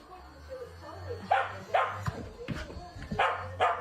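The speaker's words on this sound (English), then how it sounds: "This dog can't understand how this toy works." A dog barks at a toy indoors in a series of sharp, medium-loud barks and yips at irregular intervals, with a low steady hum underneath.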